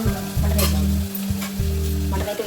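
Mutton with tomato fries in a pan, a loud close sizzle with rhythmic scraping strokes of a spoon stirring, no talking.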